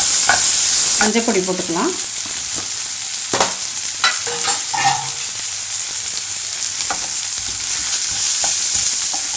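Dried red chillies, onion, crushed garlic, curry leaves and small tomatoes fry in a pan with a bright, continuous sizzle and repeated stirring scrapes; a voice speaks briefly.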